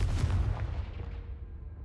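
Booming fire-spell explosion (Confringo) in the Hogwarts Legacy video game, one deep blast that rumbles briefly and then fades.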